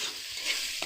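Ginger is stirred and fried in a pan, with a soft steady sizzle and a brief scrape of the spoon near the end.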